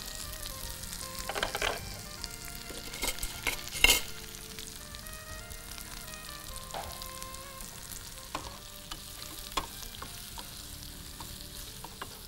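Okra frying in a pan with chili powder sizzles steadily, with clattering stirring strokes, a few sharp scrapes near the start, and no talking.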